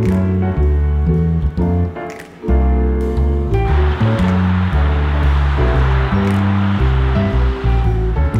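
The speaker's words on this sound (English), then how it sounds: "Waves." Ocean waves break on a shore at night, a loud continuous hiss and wash of surf running under a sustained music track.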